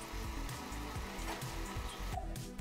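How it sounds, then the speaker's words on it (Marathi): Jaggery tea with cardamom powder bubbling in a pan, a low soft simmer with steady bubbling texture and faint plops, continuous and quiet with no voices. "3 ते 4 मिनिटांनंतर आपला चहा मस्त उकळलेला आहे"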